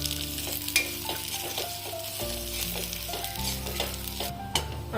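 Dry fruits stirred and roasting in ghee in a pan, a steady close sizzle with scraping stir strokes and occasional louder clinks, no voices.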